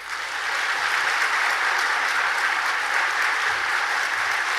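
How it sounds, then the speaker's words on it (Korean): A church congregation gives a big, steady round of applause welcoming their retired senior pastor at a New Year's Eve service in Yeongju, the dense clapping holding loud and even throughout. "목사님 사랑합니다 라는 마음을 담아서 큰 박수로 맞이하겠습니다"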